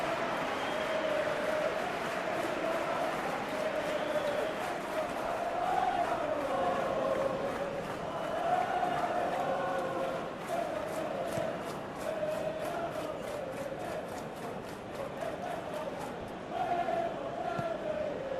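Stadium crowd noise from a football video game forms a continuous, moderately loud roar of chanting and singing voices that swells and dips over a steady broadband wash.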